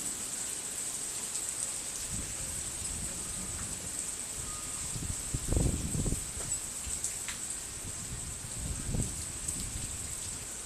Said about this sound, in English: Damn, it's an actual storm coming through.